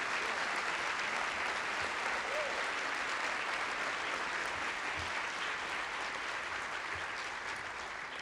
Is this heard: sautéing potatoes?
no